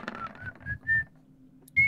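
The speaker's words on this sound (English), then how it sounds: "I would like to grab the pickaxe and start whistling as we head down the cave" A person whistles a short, bouncy tune of a few bright notes, with a low voice murmuring softly underneath and a final sharp whistled note after a brief pause.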